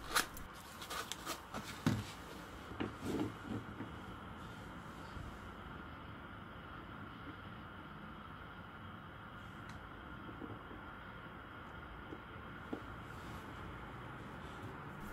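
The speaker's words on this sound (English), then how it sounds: "That noise you can hear in the background, and I suppose the light you can see as well, is the blowtorch." Blowtorch burning in a shed while heating steel held in a vise, a steady, soft roaring hiss under a few clanks and handling noises near the start.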